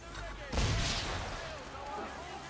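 Enemy ship cannons fire at the player's vessel in Assassin's Creed III, one heavy booming blast with a long rolling tail under background sound.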